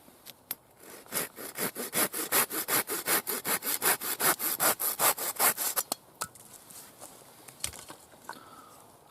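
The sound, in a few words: sawing off the end of a piece of wood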